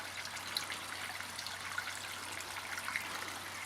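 Water from a koi pond waterfall spills into the pond below, a soft, continuous trickle and splash with small bright droplet sounds, faint and steady with no voices.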